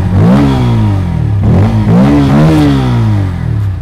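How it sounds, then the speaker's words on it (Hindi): A 2023 Bajaj Pulsar N160 BS6 motorcycle revs loudly and close, its exhaust note rising and falling through several throttle blips over a steady idle rumble. "ये एग्जॉस्ट नोट ले लो एक बार इसका"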